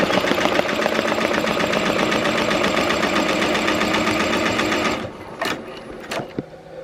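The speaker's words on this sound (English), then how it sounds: "I'll get at least one of the colors on camera fully stitching out" A Tajima TMBP2 embroidery machine runs a placement stitch on a dad hat before foam is added for two-color 3D puff, giving a steady, close, rapid mechanical chatter for about five seconds before it stops, followed by a few faint clicks and knocks.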